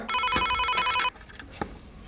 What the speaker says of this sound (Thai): โทรศัพท์ดัง